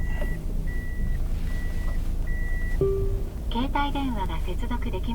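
A Japanese kei car sounds its alert when it starts to drive: four evenly spaced electronic beeps, then a lower tone, with someone talking over the end.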